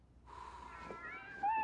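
A kitten meows in a Dairy Queen TV commercial, a short, thin rising cry heard alone and close, followed by a brighter second mew at the end.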